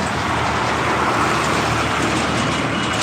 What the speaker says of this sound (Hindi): ई वाली ट्रक ये बहुत आवाज़ करते हैं,